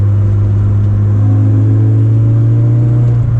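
A boosted Toyota AE86 engine holds a loud, steady drone up close, its pitch climbing slightly as it revs while the car drives.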